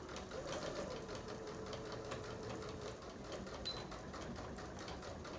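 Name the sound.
sewing machine stitching along fabric edge of baby bib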